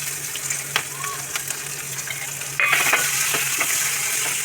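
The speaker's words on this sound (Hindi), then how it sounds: "अभी हम आपको प्याज भून करके दिखाते हैं।" Onion fries in hot oil with cumin and asafoetida, sizzling steadily up close, with a few utensil clinks and a brief metallic scrape partway through.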